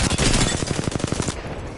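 A quick, close burst of rapid automatic gunfire in Apex Legends, a steady rattle of evenly spaced shots that stops abruptly after just over a second.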